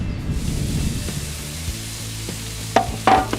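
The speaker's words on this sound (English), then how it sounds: "Let's listen for that sizzle." Carne asada steak sizzles on a grill with a soft, steady hiss, joined near the end by a few sharper pops and crackles.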